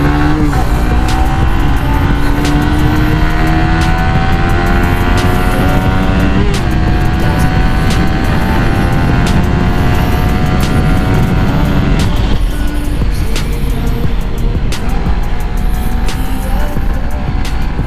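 A Suzuki GSX-R 150 motorcycle engine accelerating hard along an open, empty road, its loud, close whine climbing in pitch through gear changes over rushing wind noise.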